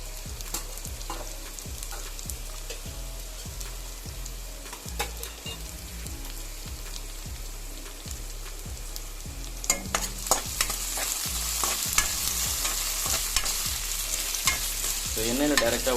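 Potato pieces fry in hot oil for egg fried rice, a steady sizzle broken by a regular rhythm of scraping spatula strokes that grows busier and louder toward the end, with no voices.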